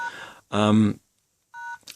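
Keypad tones sound from a vintage Motorola Teletac Premier brick phone, two clear electronic beeps close by, one longer and one shorter, separated by a silent pause.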